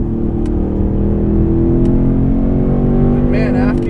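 Steady, loud drone of a 670 hp supercharged 2016 Roush Stage 3 Mustang engine under power from inside the car, a continuous low rumble with rising harmonics, with a voice speaking over it.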